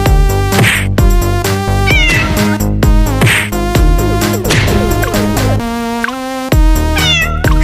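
A cat meows repeatedly and loudly up close, a series of drawn-out, rising and falling cries with short pauses between them, alone with no other sounds.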